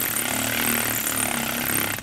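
A powered tool tightens a bolt on a B and W 5th wheel trailer hitch being installed in a 2012 GMC Sierra, giving a continuous loud motor whir for two seconds.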